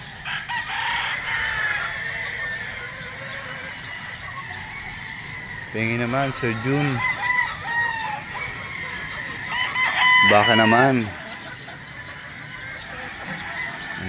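A gamefowl rooster crows twice over a steady background of clucking hens on a farm of nearly 1,000 breeding hens, with insect chirps and someone speaking briefly.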